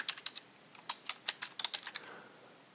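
Typing on a computer keyboard while entering values into a data table, a quick run of close, crisp key clicks in uneven bursts, alone with no talk.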